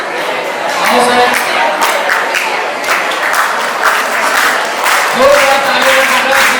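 Audience applause at a high school retirement honour ceremony, a steady dense wash of clapping from a crowd that holds for several seconds and swells slightly near the end.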